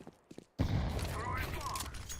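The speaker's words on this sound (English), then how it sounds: "Throw in the flashbang. I'm throwing a grenade." Sudden loud broadband blast in a video game match erupts after a brief quiet pause, followed by a sustained rumbling roar with scattered crackles and debris, with no talk over it.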